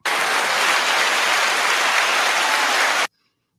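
A short burst of audience applause at a talk show, dense and loud, holding steady for about three seconds before stopping abruptly into silence.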